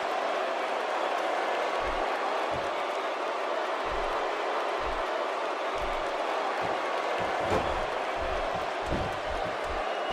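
Steady roar of a sold-out arena crowd cheering during a WWE 2K16 tag match, a continuous wash of noise with soft thuds and impacts underneath.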